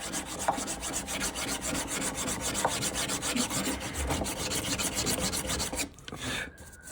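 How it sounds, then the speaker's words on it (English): A flat block sands a classical guitar headstock in steady rhythmic rasping strokes, close and continuous, before stopping abruptly near the end. "what we're gonna do by sanding this with a flat block"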